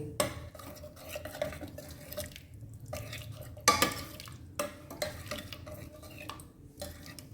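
A spoon stirs Rajasthani panchmel dal in a pot after chopped coriander and lemon juice go in, scraping and clinking up close in uneven bursts, with no talking.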